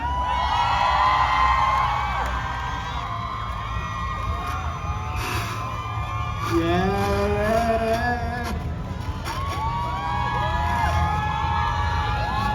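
A crowd at a Siam stage event cheers and claps to welcome the cast of Across The Sky, with whoops and shouts over steady applause and music with sliding tones underneath.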